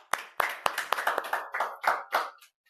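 Group of people clapping hands in a classroom during a math lesson, about a dozen sharp, uneven claps over a few seconds, close and fairly loud with no talking.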